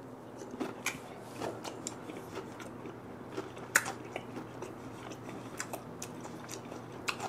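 Close, crisp bites and steady chewing on squid sashimi and grilled pollock roe, a quiet run of crunchy mouth sounds with no talk.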